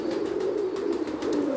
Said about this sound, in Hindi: उसके लिए मैंने ये सियालकोट से ये कबूतर हासिल किया।